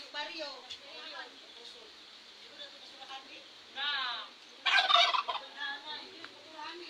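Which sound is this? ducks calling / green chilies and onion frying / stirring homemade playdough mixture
ducks calling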